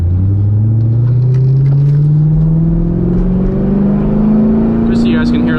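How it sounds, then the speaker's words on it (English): Chevrolet Corvette C6 Z06 engine revving hard while accelerating on a canyon road, heard from inside the car as a loud, close drone climbing steadily in pitch without a break. "Just so you guys can hear the revs."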